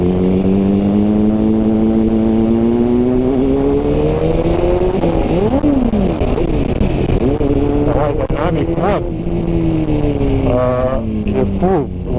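A 2021 BMW F900 XR motorcycle engine runs loud and close for the whole stretch, its steady drone climbing and dipping with the revs and rising sharply in bursts toward the end.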